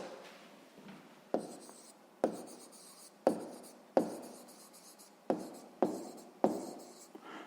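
Pen writing a math answer on paper, a series of about eight sharp taps each followed by short scratchy strokes, close and quiet.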